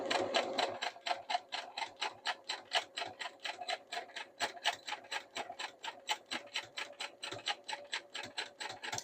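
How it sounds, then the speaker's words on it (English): Sewing machine running steadily through knit fabric for a headband, a rapid even run of mechanical stitching clicks at moderate pace, quiet and close with no talking. "I don't go too fast when I'm sewing knits."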